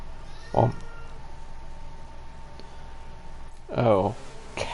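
A house cat meows close by, one short call early and a longer, louder wavering meow near the end, over a quiet steady room hum.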